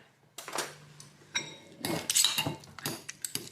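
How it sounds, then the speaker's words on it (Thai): A spoon mashes vegan tofu in a bowl for a scramble, producing scattered clinks and scraping knocks against the dish in short irregular bursts, close and fairly quiet. "บี้เต้าหู้ ให้มัน เละ ต้องใช้ช้อนด้วย"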